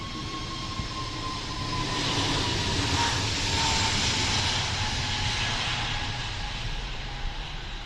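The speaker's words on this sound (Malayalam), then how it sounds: "ഒരു വിമാനം പൊങ്ങുകയാണ്" A jet airliner takes off near Kochi airport, its engine roar swelling to a steady, broad rumble and then holding, heard from a moderate distance with no voices over it.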